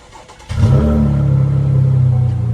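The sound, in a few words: Chevrolet Camaro RS engine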